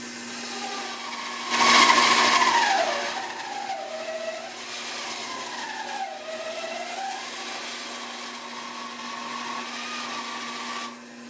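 A table saw rips through tenor guitar wood: a steady motor hum rises into a loud, bright whine as the blade bites, then the pitch sags and recovers through the long cut before spinning down.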